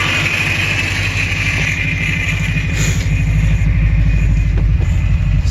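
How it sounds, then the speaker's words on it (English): A 1986 Subaru engine idles steadily with a constant low rumble, while the power steering pump lets out a continuous high whine above it, loud and close throughout. "Power steering pump is screaming. I need to get fluid for that. But idling."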